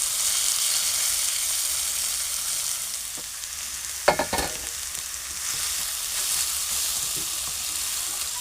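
Mashed vegetable filling with grated coconut hits a hot pan for pitha, a steady close sizzle with a sharp burst of spatter and stirring scrapes midway before the frying hiss settles again.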